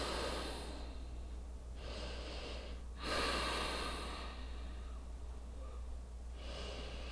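Slow, deliberate yoga breathing during a back-strengthening practice: long, steady breaths drawn in and pushed out through the nose, close and fairly faint over a constant low hum, with no talking.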